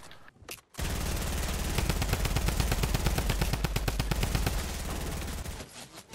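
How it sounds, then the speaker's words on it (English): Rapid bursts of enemy gunfire from a hill in a video game, a dense, sustained rattle of automatic shots lasting several seconds after a brief lull, loud and continuous with no talk over it. "Guys on the hill are shooting me"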